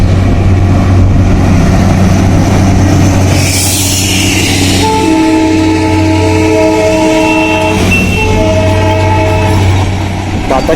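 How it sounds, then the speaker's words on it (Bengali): A Darjeeling toy train arrives with its steam whistle giving one long, loud, multi-toned blast, then a shorter second blast, above a steady low engine rumble and the rolling noise of the carriages. "যেতে যেতেই শুনতে পেলাম টয় ট্রেনের বাঁশি।"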